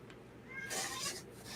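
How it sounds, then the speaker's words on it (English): A domestic cat gives a single short meow, fairly close and moderately loud, with faint room noise and no talking. "Oh, hi, kitty."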